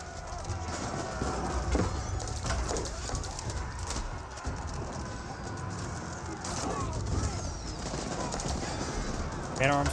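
A volley of ranged fire in an Age of Empires 4 battle, a dense crackle of many shots over continuous clattering battle noise, with a voice talking throughout.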